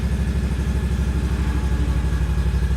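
A Hustler Raptor SD lawn mower engine runs nearby with a loud, steady, rapid chugging pulse, like a close idle, throughout.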